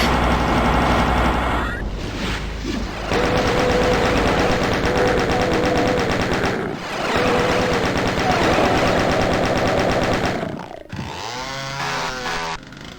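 Rapid gunfire from a gun in Final Doom played in GZDoom with Smooth Doom, loud sustained bursts of automatic shots with brief gaps, followed by a creature's growl at the end.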